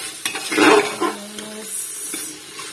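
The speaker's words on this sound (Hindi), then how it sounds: "ये मसाले के साथ में मटर को अच्छे से भून रही हूँ मैं।" Peas being stirred and roasted with spices in a pan, a short burst of scraping and light sizzling with a few clinks of utensil against metal, close and fairly quiet.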